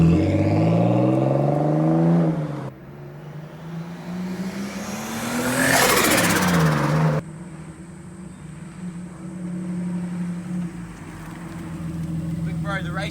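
A BMW car engine revs loudly, its pitch rising and falling in a couple of sustained pulls with a throaty roar near the middle, while people talk over it.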